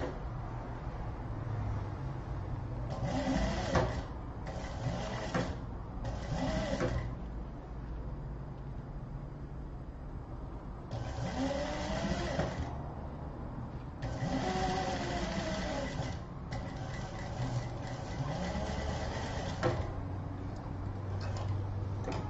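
A sewing machine stitches the tabs of a toiletry bag in several short bursts of rapid whirring separated by pauses, moderately quiet and close, with a low background hum between runs.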